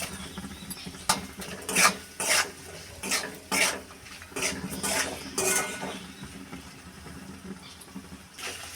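Spices with chili powder and salt are sautéed with fried shrimp in a pan, giving repeated loud scraping and clinking stirring strokes over a low sizzle, fairly close and without speech.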